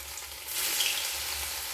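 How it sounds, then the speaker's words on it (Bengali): Pieces of masoor dal dhoka, a lentil cake, dropped one by one into hot mustard oil in a kadai, frying with a steady hiss that swells to a loud, dense sizzle after a quieter start, with no talking. "একটা একটা করে তেলের মধ্যে ধোকা ছেড়ে দিলাম"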